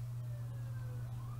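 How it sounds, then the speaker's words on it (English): A faint siren wails outside in rising and falling sweeps, heard from a distance beneath a steady low indoor hum. "That's a siren."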